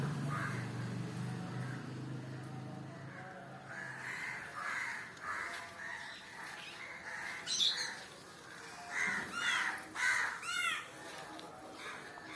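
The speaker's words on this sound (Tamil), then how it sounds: "பிக்கப்பில் வந்து இறங்கி நியூ பேர்ட்ஸ் கம்மிங்" Crows caw in a loose series of harsh, repeated calls as newcomers flock in, with softer chirps and squawks around them, fairly near and growing busier toward the end.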